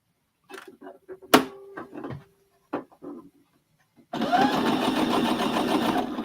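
A sewing machine stitches a quilt block, starting after a few soft handling clicks and knocks, then running steadily and fairly close for the last couple of seconds.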